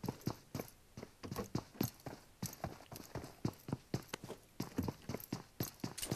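Footsteps in the mobile game PUBG Mobile tap out a quick, regular pattern of soft thuds, close and moderately quiet, with no talking over them.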